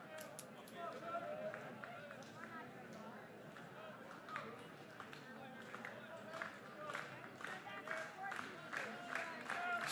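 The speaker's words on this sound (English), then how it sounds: "Sooner fans clap in unison." Sooner fans at an Oklahoma college baseball game clapping together in a steady rhythmic beat, a broad crowd sound with a commentator's voice over it.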